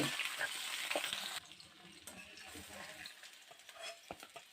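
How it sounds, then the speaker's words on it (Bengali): Potato and aubergine pieces frying together in a pan for a Bengali hilsa fish curry, a loud sizzle for the first second and a half that settles into a softer crackle with occasional stirring clinks. "এবারে বেগুনটাও দেব। একসঙ্গে ভেজে নেব, আলু বেগুন দিয়ে ঝোল করছি তো।"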